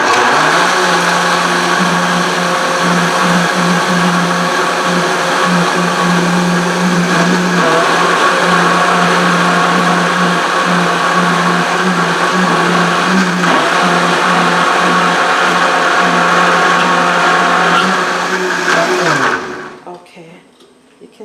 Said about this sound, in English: So you just go ahead and blend that